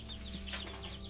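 Backyard chickens in a mixed flock, including buff Brahma bantams, give a brief, faint cluck or two over a low steady background, slightly distant and without any talk.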